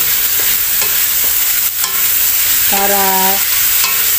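Chicken sautéing in a home-cooking pan, a steady loud sizzle with scraping stir strokes and a brief tonal clink, while a voice speaks a single word.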